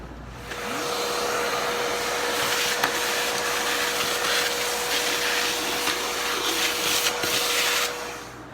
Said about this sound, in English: And vacuuming this mess.